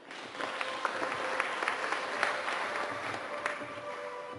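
Moderately distant applause from a seminar audience, a steady patter of many hands clapping for a few seconds without talk.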